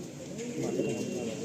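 Tournament pigeons coo in soft low rolling tones inside a loft, several birds close together and fairly quiet.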